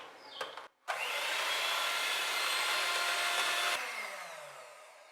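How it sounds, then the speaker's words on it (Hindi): Whipped cream mixed with strawberry mixture for an eggless strawberry mousse is beaten lightly, a steady close whirring hiss that runs for about three seconds after a few small knocks, then stops abruptly. "अब इसको हल्का सा बीट करेंगे।"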